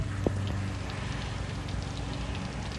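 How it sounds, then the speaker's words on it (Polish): Steady, dense hiss of rain falling, a constant close wash of patter with no voices. "Pada deszcz."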